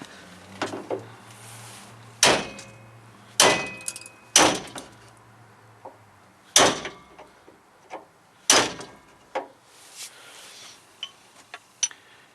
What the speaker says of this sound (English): I'm going to knock the pin out